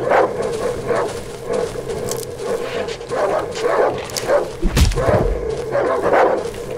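Dogs barking in the video game Darkwood, repeated yips and barks coming in irregular bursts at moderate volume, with a dull thump partway through and no talking.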